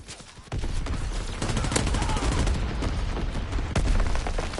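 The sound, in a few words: shelling and gunfire in a shooter video game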